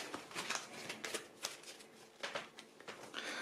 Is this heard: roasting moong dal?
no